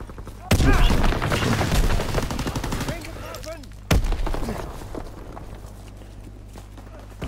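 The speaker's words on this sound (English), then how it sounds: "I love this blunderbuss" Blunderbuss gunfire in the Call of Duty WWII video game on PS4: a loud close blast at the start, then a second sharp shot partway through, each trailing off into rumbling battle noise.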